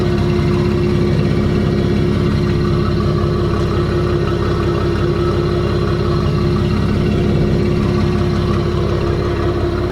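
Cadillac CT4-V Blackwing with cat-less downpipes idling with the exhaust valves closed in touring mode, a steady low rumbling burble held evenly throughout, close and unaccompanied.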